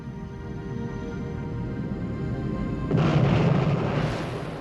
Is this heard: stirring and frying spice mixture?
no